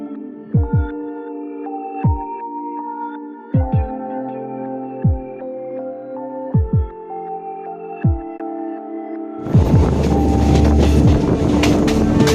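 The Thiruvananthapuram–Trichy intercity express accelerates on the main line, its wheels knocking over rail joints in regular paired thuds above a humming tone, before a louder, dense rushing roar takes over.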